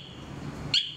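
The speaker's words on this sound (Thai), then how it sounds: "นี่คือเสียงเตือนสมมติดับเครื่องแล้วถ้าไม่ล็อกรถจะเตือนตืดๆนะครับ" A Honda PCX scooter's G-Lock anti-theft alarm sounds one short, sharp, high electronic beep near the end, after a stretch of low background hum.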